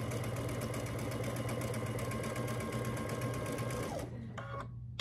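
A sewing machine runs a quarter-inch quilting seam in a rapid, even stitching chatter that stops abruptly near the end, followed by a few brief mechanical clicks.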